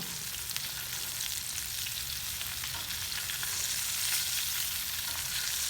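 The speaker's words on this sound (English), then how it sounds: "Look at that sizzle." A porterhouse steak sizzles in butter in a pan, giving a loud, steady, close-up crackle and hiss that continues throughout with no talking.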